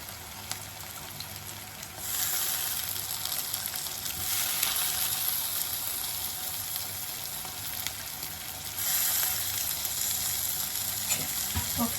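Curry leaves sizzling in hot oil for egg curry, a continuous close crackling fry that grows louder in waves, with no talk.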